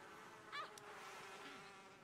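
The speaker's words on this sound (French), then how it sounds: "ça c'est les abeilles tueuses" Killer bees in The Sims 4 give a faint insect buzz that drones steadily for about two seconds, with no talk over it.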